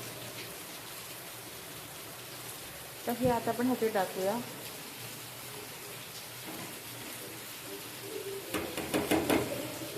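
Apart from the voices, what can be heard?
heavy rain falling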